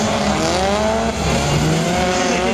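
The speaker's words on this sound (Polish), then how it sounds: "Subaru Impreza Proto, no to jest ta jego babcia wysłużona" Subaru Impreza Proto rally car, an old well-worn machine, driving a gymkhana course at an indoor show, its engine loud and continuous with rising and falling revs and tire squeal throughout.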